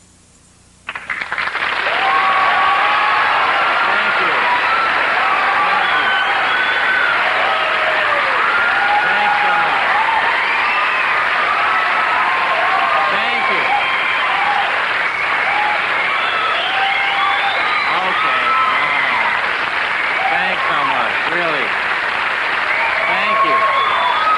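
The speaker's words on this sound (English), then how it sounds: "You don't want to applaud that much, really." A television comedy studio audience breaks into loud, sustained applause after a brief quiet start, a dense wash of clapping that holds steady for over twenty seconds.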